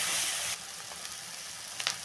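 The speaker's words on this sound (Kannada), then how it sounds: "ಅಚ್ಚ ಖಾರದ ಪುಡಿ, ಸಾಂಬಾರು ಪೌಡರ್ ಎಲ್ಲವನ್ನು ಹಾಕಿ ನೀಟಾಗಿ ಎಣ್ಣೆಯಲ್ಲಿ ಈಗ ಹಸಿ ಸ್ಮೆಲ್ ಹೋಗೋ ಥರ ಫ್ರೈ ಮಾಡೋಣ" Chilli powder and sambar powder frying in oil for okra palya, a loud close sizzle that drops to a softer crackle after half a second, with a couple of light stirring scrapes.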